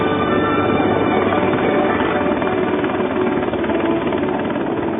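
A Mil Mi-10 Soviet heavy flying crane helicopter thunders overhead, a constant loud whirring rotor and turbine drone with no break.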